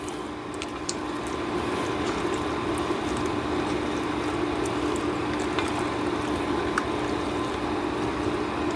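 Garbanzo beans being stirred into a pot of seafood chili, a steady wet, squishy churning that stays constant and close throughout, with no one talking.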